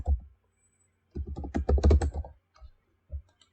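Typing on a computer keyboard while entering text in Cricut Design Space, with a short burst of quick clustered keystrokes and a few isolated taps afterward, close and clear in a quiet room.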